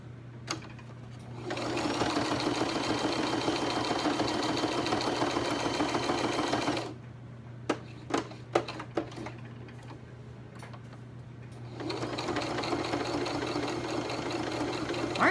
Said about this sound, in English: I'm going to sew some lace and whatever.